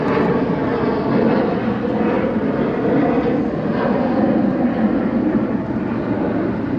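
Airplanes pass overhead above the National Mall in Washington DC, a steady loud roar of jet engine noise that fills the whole clip, with no voices.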